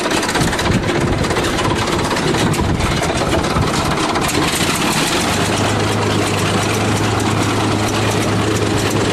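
Bulldozer diesel engine idling at low RPM, a steady loud continuous rumble with a deep droning hum that grows steadier partway through, running alone without talk.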